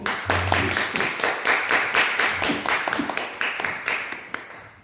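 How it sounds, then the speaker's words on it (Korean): Applause from an audience at a book concert, a series of sharp rhythmic clapping bursts at a steady beat, loud and close, gradually easing toward the end with no talking. "큰 박수로 맞이하겠습니다"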